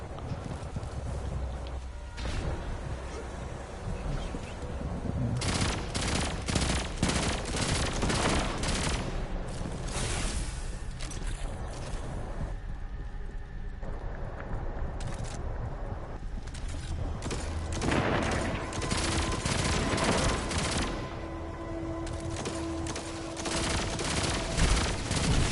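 Gunfire from a weapon in Destiny 2 rings out as repeated loud shots and rapid bursts across the whole span, with rumbling battle noise and no voices.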